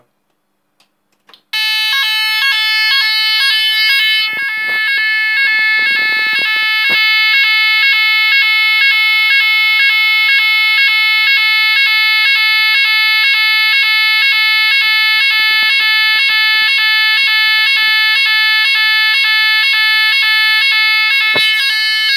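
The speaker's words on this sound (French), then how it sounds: "je vais vous montrer ce que c'est du son FNOR. Donc c'est parti, je mets l'alarme en route." A Chubb Chorus burglar alarm siren switches on after a couple of faint clicks and blares continuously at a steady, piercing pitch.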